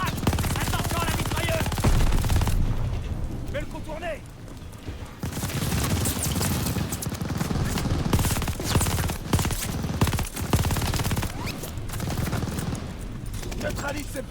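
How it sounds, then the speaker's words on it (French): Machine gun fire in the Call of Duty Vanguard campaign, sustained rattling bursts over a dense battle din, with voices shouting over the noise throughout. "Attention à la mitrailleuse!"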